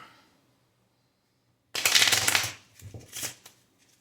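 Deck of playing cards being shuffled on a table, a close crisp riffle burst followed by a second shorter ruffle, quiet pauses around them and no talking.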